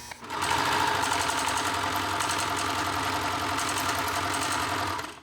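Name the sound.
sewing machine stitching to pull out threads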